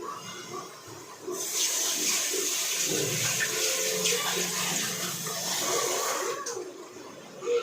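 Water running from a kitchen tap while rice is washed, a steady splashing gush that starts after a second and continues close and loud, easing slightly before a final clatter.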